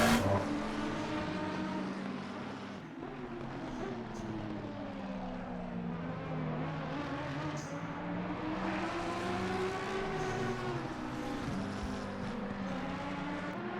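McLaren and Aston Martin race cars at Spa in a sim racing league event drone steadily as engine tones rise and fall together, a continuous mid-loud whine with shifting pitch as the cars battle closely.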